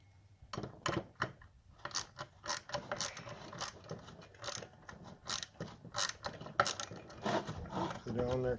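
Ratchet wrench tightening a bolt while fitting a water pump on a 2006 Dodge Charger Daytona RT, with rapid, close clicking strokes in irregular bursts and faint voices in the background.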